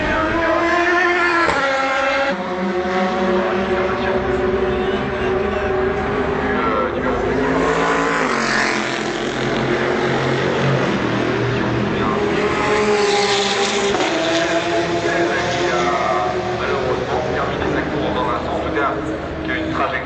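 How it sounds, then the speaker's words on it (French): Race cars, including Porsches, at Le Mans 24 Hours qualifying roar past with loud rising and falling engine notes, overlapping one another. A commentator talks continuously over the engines. "La Porsche Pro Speed Competition numéro 75 de Abdelaziz Al Faisal, de Brian Curtis"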